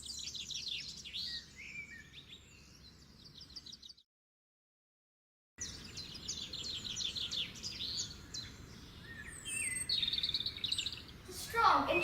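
Parakeet calls from a nature clip, bright chirps and squawks repeating in quick bursts over a low background hum, with a short silent break midway and a louder call near the end.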